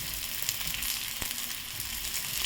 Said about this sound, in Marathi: हे बघा इथे कांदा पण असा मी छान भाजत आहे